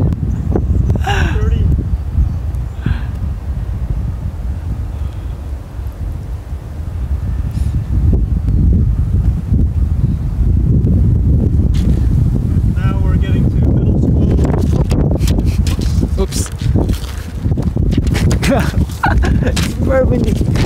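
Strong wind blowing outdoors at a cross country race, rumbling and buffeting the microphone in loud gusts, with people talking over it.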